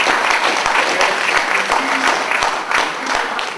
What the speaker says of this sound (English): So another big round of applause for this brother.